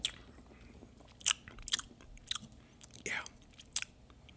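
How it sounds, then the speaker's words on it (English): Lip smacking and mouth sounds while tasting a Dogfish Head Romantic Chemistry IPA beer, several short wet smacks spaced irregularly, close to the microphone over a quiet background. "Let me get some lip smacking sounds in the microphone."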